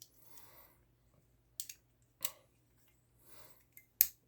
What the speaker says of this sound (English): Big old scissors that work really, really well.